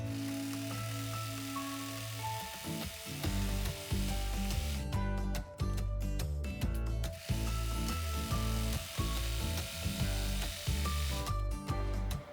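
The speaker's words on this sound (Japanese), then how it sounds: "今縫ったところにロックミシンをかけます。" An overlock serger sewing machine finishes a shoulder seam allowance in rapid, steady bursts with brief pauses, a busy mechanical whir and clatter close by, no voices.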